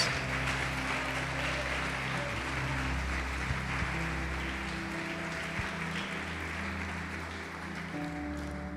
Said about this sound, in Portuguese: Pode aplaudir e glorificar Jesus.